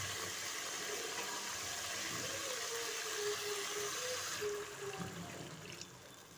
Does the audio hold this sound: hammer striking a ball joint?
no